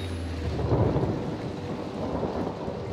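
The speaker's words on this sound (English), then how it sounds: "I did not get scared by the lightning, shut up." Thunder rumbles through a heavy storm in the video game Outlast, a deep rolling boom swelling and fading over steady rain with no voices.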